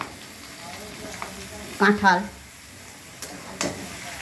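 Potatoes and chopped onions fry in a pan and are stirred, giving a low sizzle with a couple of louder scraping stirs near the middle of the clip. A voice talks quietly in the background.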